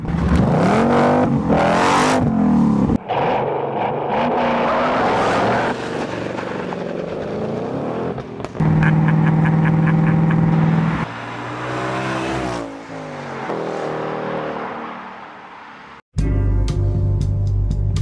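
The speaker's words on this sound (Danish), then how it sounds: "Motoren er selvfølgelig uden turbo og lyder forbløffende meget som den oprindelige Mustang fra filmen." A Ford Mustang Bullitt with a naturally aspirated V8 revs and pulls while driving, its deep engine note rising and falling loudly through several gear changes, with a sharp burst of revving at the end.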